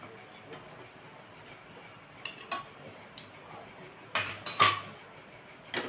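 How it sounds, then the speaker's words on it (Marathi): A metal pot and a kadhai are set down on a home kitchen stove, giving a few sharp clanks near the end over a quiet room hum. "ठेवते हे पातेला आणि इकडे आपण कढई ठेवू"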